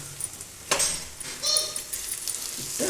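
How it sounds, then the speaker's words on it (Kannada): Onions frying in a pan for a radish bajji dish, a soft sizzle with a few brief stirring scrapes and clinks, faint voices in the background. "ಸ್ವಲ್ಪ ಫ್ರೈ ಮಾಡೋಣ ಈರುಳ್ಳಿ"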